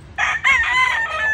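A rooster crows on a ranch, one loud, close, drawn-out call with a rising start and a sustained wavering tail, heard alone without talk.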